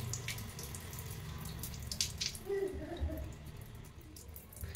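A kitchen tap runs into a sink, a steady close hiss of flowing water with light splashing as the basin is rinsed, moderately quiet and continuous.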